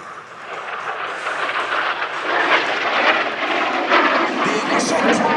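A North American F-86 Sabre jet flies at the 2014 Vectren-Dayton Air Show, giving a loud, broad jet roar that swells as it passes. A commentator talks over it.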